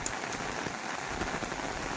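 Heavy, torrential late-September rain pours steadily outside, a dense continuous patter on surfaces with no voices.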